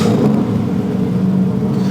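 Toyota 1JZ engine swapped into a BMW E46 drift car, idling with a steady close low rumble and slight uneven lope, loud and continuous with no voices.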